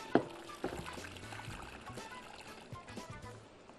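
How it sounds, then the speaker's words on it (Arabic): Water is poured into a cooking pot while steaming couscous with meat. It starts with a brief splash, then a faint, soft trickle and gentle liquid sounds in a quiet kitchen. "وازود هنا ميه في الحله هنا"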